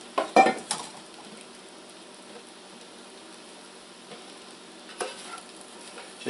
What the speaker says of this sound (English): to get a nice little sizzle going here.